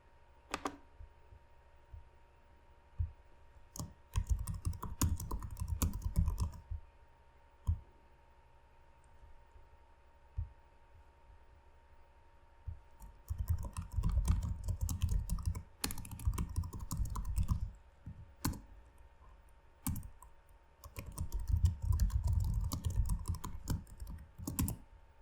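Code being typed on a computer keyboard: bursts of quick, soft key clicks with quiet gaps between them, heard close over a faint steady hum.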